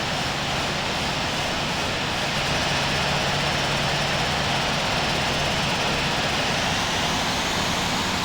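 A jet airliner taxiing at Seattle airport in the Infinite Flight game holds a loud, constant engine roar and whine that stays even and unbroken throughout.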